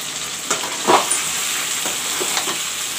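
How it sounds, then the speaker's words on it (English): Brinjal and potato frying in a pan, a steady close sizzle broken by a few soft stirring scrapes and spatters. "I will let the brinjal and the potato fry slightly."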